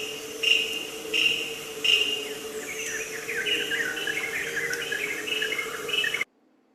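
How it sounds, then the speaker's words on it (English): A racket-tailed drongo repeats a sharp call three times, then breaks into a run of varied chattering notes over a steady background insect drone in a restored rainforest. "So you again heard the racket-tailed drongo"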